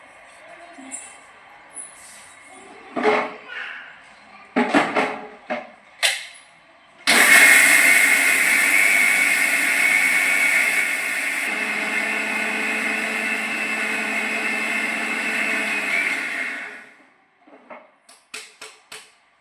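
After a few clinks and knocks, a mixer grinder grinding grain whirs loudly and steadily for about ten seconds, then winds down, followed by more light handling clatter.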